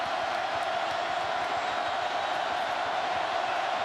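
A dense, steady roar from a packed college football stadium crowd at a 2013 South Carolina vs Tennessee game, continuous and loud with no breaks.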